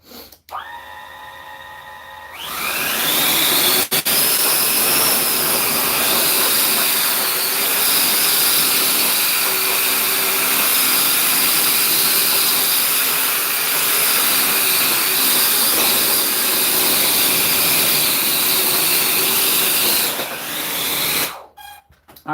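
A 70mm EDF ducted fan drone motor spins up into a loud, steady, high-pitched jet-like whine with a hissing rush, holds for about twenty seconds, then cuts off sharply.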